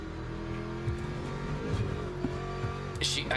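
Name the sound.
Porsche race car engine revving in video game Le Mans Ultimate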